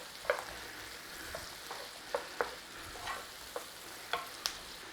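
Garlic and onions cook down in a pan with a quiet, low sizzle, while a spoon stirs them with frequent light taps and scrapes.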